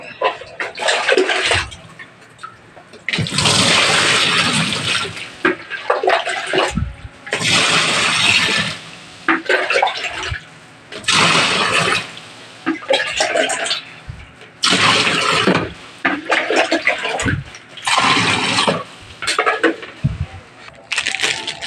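Running water from a tap gushes into a mini washing machine tub in repeated bursts, stopping and starting every couple of seconds, loud and close.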